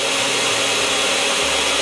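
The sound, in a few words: grinding ingredients for chile filling in a blender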